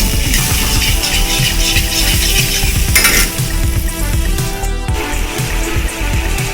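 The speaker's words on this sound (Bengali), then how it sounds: "এবার এটাকে একটু ফুটতে দেবো ঝোলটা মরে গেলেই নামিয়ে দেবো" Pumpkin and poppy-seed curry with a little added water simmers and sizzles in a pan as a spoon repeatedly scrapes and stirs, close and busy, with clinks of utensil on metal.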